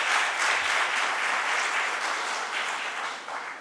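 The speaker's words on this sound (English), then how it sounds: "A warm round of applause for Mr. Subramaniam." Audience at a formal evening AGM event applauding a chief guest: dense, steady clapping from a large crowd that lasts the whole span and fades slightly toward the end. No one speaks over it.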